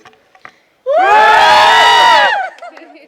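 A cinema audience at a film premiere screening bursts into loud hooting, whoops and cheering for about a second and a half, then fades into scattered voices.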